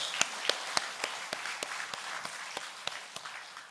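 A church congregation claps together in a steady, even rhythm of about three claps per second, faint and somewhat distant, with no voices over it.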